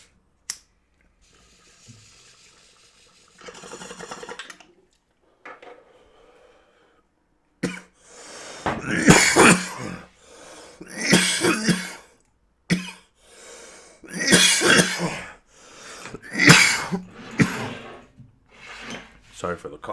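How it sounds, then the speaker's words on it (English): Several loud, close coughs and throat-clearing bursts come in bunches during a smoking session, with quiet handling noises before them and brief pauses between the fits. "Sorry for the coughing."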